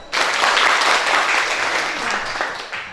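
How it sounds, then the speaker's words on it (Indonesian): Students in an Indonesian classroom break into applause, a sudden, loud, close burst of many hands clapping that holds steady for a few seconds before tapering off slightly at the end. "Tepuk tangan."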